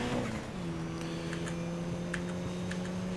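A car engine drones steadily at high speed in Need for Speed: Most Wanted (2012), a sustained close tone that drops slightly early on, with faint ticks and game noise over it.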